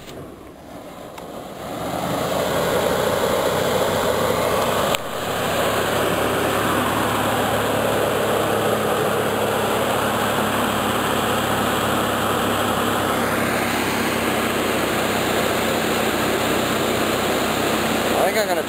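A small block Chevrolet engine idling erratically with a binding throttle linkage and the choke on starts up, then settles into a loud, steady high-rev drone that holds near and constant.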